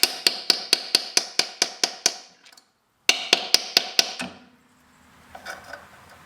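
Sharp metal hammer blows drive a 14mm deep-well socket onto a transmission pivot pin of a BMW ZF320 gearbox, about a dozen quick evenly spaced strikes, a short pause, then a few more blows, close and loud.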